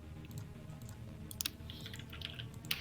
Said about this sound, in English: You hear that typing?